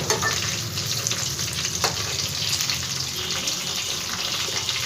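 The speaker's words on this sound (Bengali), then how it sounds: "এবার একে একে পটলগুলো সব উল্টিয়ে দেবো আমি।" Slices of pointed gourd (potol) fry in a pan, giving a steady close sizzle with faint scraping and stirring as the pieces are turned.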